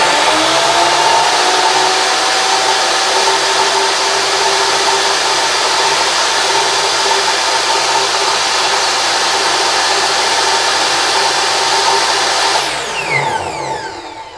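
A Craftsman miter saw, model 407530, runs at full speed with a loud, steady high whine, then brakes and winds down sharply near the end.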